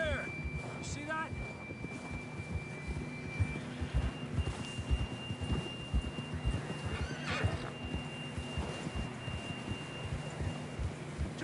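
Horse neighing and whinnying in a PS4 video game, with steady clip-clopping hooves throughout, accompanied by a sustained electronic tone and light background game ambience.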